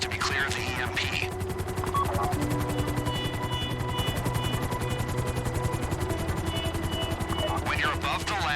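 A helicopter in the GTA Online Humane Labs raid climbs and flies steadily, its rotor chop and turbine drone continuous and loud throughout, with brief voice-like bursts near the start and end.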